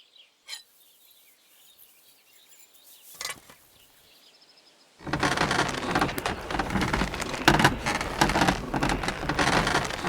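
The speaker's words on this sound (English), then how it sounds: "Pissing down rain again." Heavy rain pours down in Kingdom Come: Deliverance 2, a loud, dense, steady downpour that bursts in abruptly after a few quiet seconds and keeps drumming on with no talk over it.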